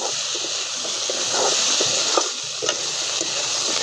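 Aloo 65, fried potato pieces with freshly chopped coriander, gets stirred in a hot frying pan, with steady sizzling and repeated scraping tosses close up.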